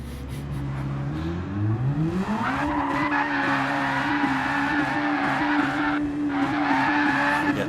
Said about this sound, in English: We get the burnouts. Can they blow a set of tyres before the start of the race?